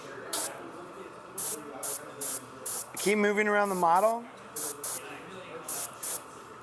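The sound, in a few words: airbrush spraying paint on a model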